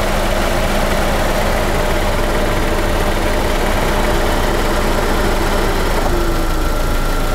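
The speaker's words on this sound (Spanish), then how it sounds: "el vehículo bajó su marcha, lo hizo de forma automática, como estamos viendo, y vuelve y la sube" A car engine idling steadily and close by, its pitch and speed sinking and then rising again as the idle shifts on its own, with a constant mechanical drone throughout and no talk.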